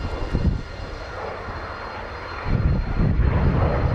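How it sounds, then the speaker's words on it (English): A Messerschmitt Me262 jet fighter flies past at an air display, its engine roar loud and sustained, easing slightly before surging again louder toward the end. "Just shooting the red line of the airplane, trying to catch that jet."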